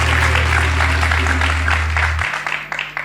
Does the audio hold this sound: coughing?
no